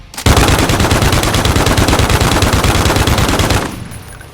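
In Warzone, an unmodified RAAL MG light machine gun fires a sustained burst of about 30 rounds, rapid and loud, with steady rhythm for over three seconds before stopping abruptly.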